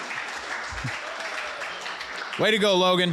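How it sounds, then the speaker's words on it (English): An audience at a company all-team meeting applauds a colleague with a dense, even patter of clapping. A voice calls out near the end. "give him another round of applause"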